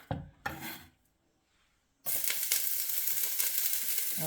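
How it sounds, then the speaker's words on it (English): Fresh garlic hits hot avocado oil in a pot and breaks into a loud, steady sizzle that runs on without pause, after a few faint clinks and quiet handling. "I'm gonna go ahead and add some avocado oil to my pot, and then I'm gonna add some fresh garlic"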